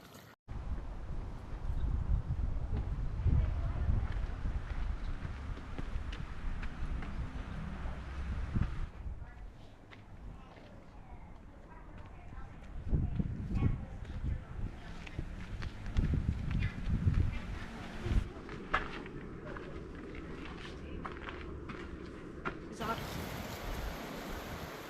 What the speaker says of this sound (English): Bit of wind blowing through.